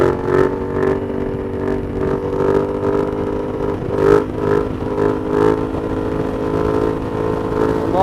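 A motorcycle engine hums steadily in third gear at road speed, a close, droning tone with gentle swells of throttle and wind rush around it.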